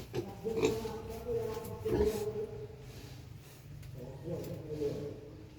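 Pigs grunting and oinking close by in a few short bursts, with a person speaking over them.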